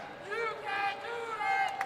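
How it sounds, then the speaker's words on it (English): A home crowd at a women's college basketball game between California and Mercyhurst yells in a brief swell of many voices, rising and falling in the arena behind the court. "You can hear the crowd behind us yelling"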